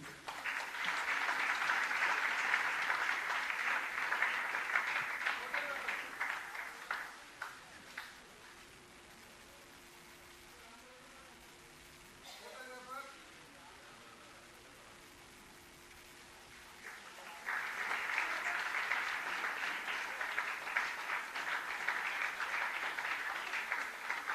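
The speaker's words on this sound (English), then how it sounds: "We now humbly request the Honorable Governor to release the poster on the theme of Yes, We Can End TB, Commit, Invest and Deliver, with a good round of applause" Applause from the audience as the Governor releases a World TB Day poster at the Raj Bhavan event, a strong burst of clapping that fades into a quiet lull, then rises again into a second round.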